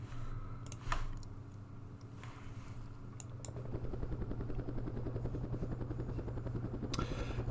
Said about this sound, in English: let's send another helicopter over there